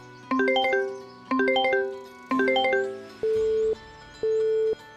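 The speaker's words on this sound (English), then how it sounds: "I'm going to try ringing Godric" A phone call rings out in Farming Simulator 25, starting with three bursts of a chiming, melodic ringtone, then two steady flat tones like an unanswered line. The sound is clear and loud, with no talk over it.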